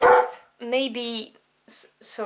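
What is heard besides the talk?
dog barking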